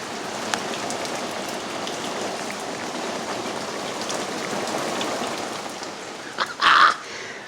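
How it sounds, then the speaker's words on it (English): Heavy rain pours steadily as a dense, constant hiss, with a brief louder knock or rustle near the end. "So if you hear some rain in the background,"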